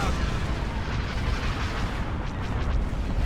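Heavy weapon fire rolls on without a break during a Star Wars: Empire at War space battle with frigates and gunboats, a dense, roaring barrage of booms and blasts that fills the whole stretch.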